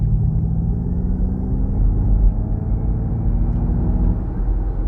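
Ford Mustang Mach-E electric SUV pulling hard on a national speed limit road, heard from inside as a loud, steady low rumble of tyres and wind with a faint rising motor whine.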